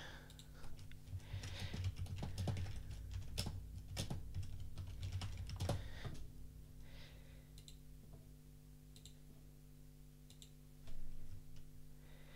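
Fast bursts of computer keyboard typing, close and crisp, with clustered key clicks that thin out into sparse taps before a final louder clatter.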